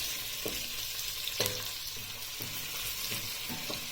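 Two chopped red capia peppers sauté in a hot pan for homemade tomato ketchup, giving a steady close sizzle with occasional stirring knocks and scrapes.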